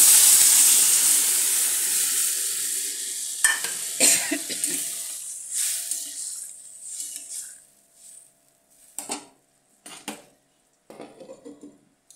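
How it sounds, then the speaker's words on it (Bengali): Water poured into a pan of sautéed, browned mixture sets off a loud hissing burst of steam. It gradually dies down, leaving sparse scrapes and clinks of stirring with quiet gaps between them. "এই যে কষানো হয়ে গেছে, জল দিয়ে দিচ্ছি।"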